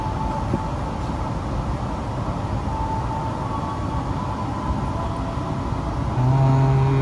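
Departing Jatibarang station, the KA Bogowonto stainless steel economy train gives a loud, continuous rolling rumble nearby, and a low sustained tone rises near the end.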